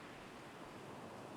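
Ocean waves wash on a shore in a steady, broad hiss of surf, continuous and fairly faint, with a light wind-like rush and no talking.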